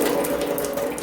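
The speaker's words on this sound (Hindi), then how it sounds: "इस प्रेशर के साथ पानी आ रहा है," Water gushes under pressure from a reverse-osmosis filter being released during repair, a steady close hissing rush filling the whole brief moment with no voices.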